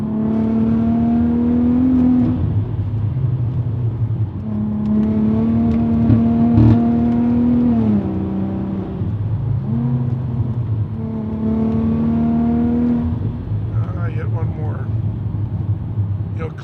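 A VW Golf MK5 R32 with an HPA Motorsport FTX700 turbo conversion pulls hard through the gears on a sunny drive, its engine note rising in loud surges and dropping between shifts, with a voice talking over it at times.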